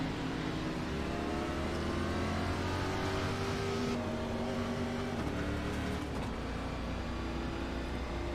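An iRacing stock car pulls away from pit lane at Daytona, with a steady loud engine drone whose pitch climbs as it accelerates. Other cars rumble around it and no one talks.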